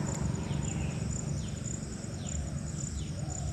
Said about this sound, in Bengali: পাখির শব্দ আর ঝিঝি পোকার শব্দ।